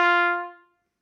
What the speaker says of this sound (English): Some things that you might hear in younger players are the blat sound